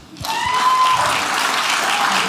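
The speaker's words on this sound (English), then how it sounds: "Can you clap?" A comedy club audience bursts into loud, sustained clapping that holds steady without fading.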